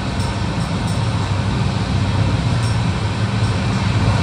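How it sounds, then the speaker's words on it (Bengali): A continuous, even rumble of the Kulik Express train running on rails between Howrah and Bolpur, with steady rolling noise and no voices. "মিনিট দুয়েক থামার পর কুলিক এক্সপ্রেসের আবার যাত্রা শুরু।"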